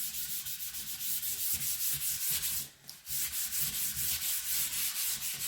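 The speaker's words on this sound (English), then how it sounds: "So get your sandpaper out, and we are just going to sand this smooth." Boards of a wooden bathroom mirror frame being smoothed by hand with 400 grit sandpaper: a steady, close, rasping scrub in quick repeated strokes, with one brief pause midway.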